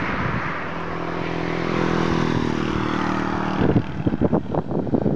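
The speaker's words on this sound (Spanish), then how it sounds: "Ahí vemos cómo viene rebasando un automovilista a una moto." A car overtakes a motorcycle on a road near Lagunas de Xico, Tláhuac–Chalco, heard from a bicycle: a steady engine drone rises, then choppy, pulsing engine bursts follow as the vehicles pass close by.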